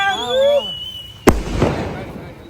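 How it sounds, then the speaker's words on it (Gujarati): A single sharp firecracker bang cuts in after a sung, tonal voice at a birthday celebration, followed by a crackling fizz that fades. "ફટાકડા ફોડો"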